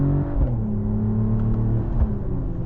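A smooth, humming synthetic engine tone from the car speakers of a 2026 Mercedes-AMG GLE 53 Hybrid rises and falls gently as it revs, a steady synthetic-sounding drone with no talk.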